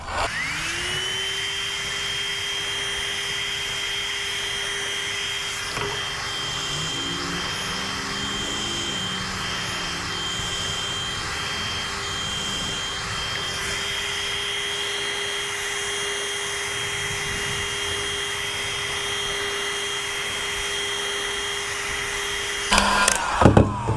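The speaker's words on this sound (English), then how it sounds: "For now, I'm just going to get my heat gun, start working this piece out." Heat gun blowing hot air while shaping a piece for a custom under-seat amp rack in a 1993 GMC Sierra single cab, a steady whining fan drone held for about twenty seconds before a brief louder clatter at the end.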